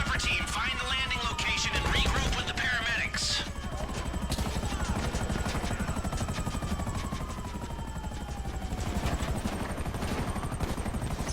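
A helicopter in the video game GTA V Online, a military Savage chopper during a heist mission, drones with a steady rotor thrum throughout, with brief bursts of gunfire and other game effects layered over it.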